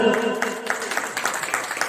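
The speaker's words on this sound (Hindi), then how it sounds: "एक बार तालियां दो" An audience at a poetry gathering in a Faridabad temple claps in a steady, rhythmic burst of applause, starting just after a brief moment of speech, moderately close and lively.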